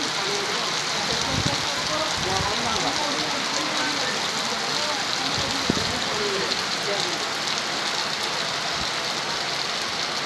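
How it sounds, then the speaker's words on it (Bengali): Heavy afternoon rain pours continuously with strong wind, heard from a roadside tea stall in Gourdighi, a dense, even hiss throughout with occasional louder drips and thumps. "প্রচণ্ড বৃষ্টি, বিকালের টাইম এখন।"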